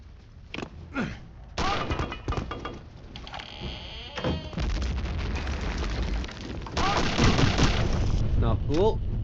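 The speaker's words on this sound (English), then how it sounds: "I think I'll throw a grenade in the guy in the hole." A grenade exploding in a video game, thrown at an enemy down in a hole, with booming bursts and gunfire-like crackle layered under other loud game effects and someone talking over it.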